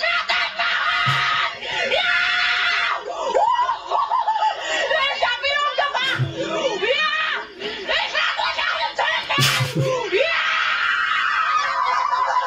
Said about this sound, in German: Ich hätte noch lauter schreien müssen.